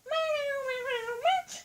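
A cat gives two drawn-out, tonal meows, the first long and steady, the second shorter and rising, close and fairly loud with no other sounds around.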